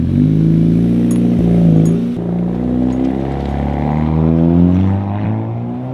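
A VW T5/T6 Transporter van on Bilstein B14 Komfort coilovers drives along, its engine a loud, close, steady drone with harmonics rising and falling as it shifts and accelerates, a couple of faint clicks on top.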